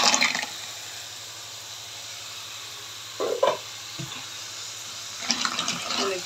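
Washed Alexandrian clams tumble into a sizzling tomato mixture in a pan, giving a steady hiss with short splashy bursts of wet rattling as they land and settle.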